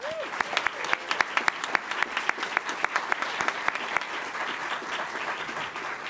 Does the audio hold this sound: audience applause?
yes